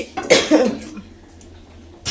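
A short burst of coughing, two rough coughs in quick succession close to the microphone, then near silence.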